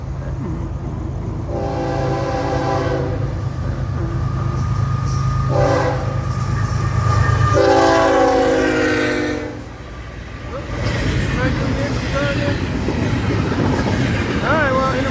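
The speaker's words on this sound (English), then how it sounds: "I'm thinking this is a Fort Pierce train." Intermodal freight train rolling past with several long horn blasts, a loud, steady rumble and the clatter of cars on the rails continuing throughout.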